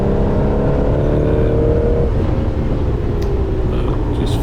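Triumph TR6 engine on a sprint practice lap, a loud continuous drone with a steady low rumble and shifting pitch, close up and unbroken throughout.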